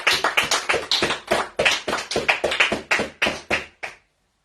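A church congregation claps in a steady, rhythmic pattern of sharp, close hand claps for about four seconds, then stops cleanly into silence.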